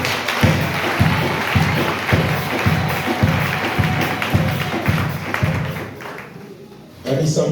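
Church congregation at a Mutshatsha prayer marathon clapping hands together in a steady, regular rhythm of loud claps, with continuous crowd murmur and voices in the background.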